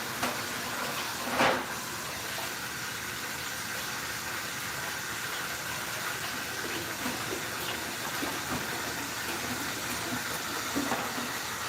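Kitchen sink tap running steadily as something is rinsed while baking, a constant close hiss of water with a brief louder splash near the start.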